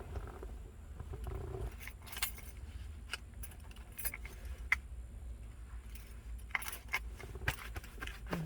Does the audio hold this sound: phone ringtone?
no